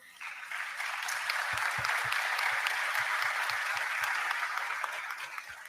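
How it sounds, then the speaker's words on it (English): Applause for panelists at a disaster-risk plenary session, a sustained, full wash of clapping from a large audience with a few louder individual claps, steady throughout. "I will ask you to give a big applause to our panelists."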